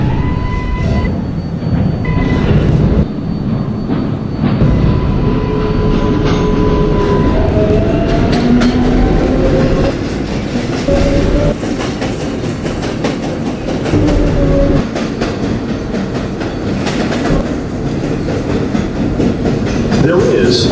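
A Manhattan-bound local 7 Flushing Line subway train runs in the Roblox game, a continuous rumbling roll with steady clickety-clack of wheels and faint tonal squeals throughout.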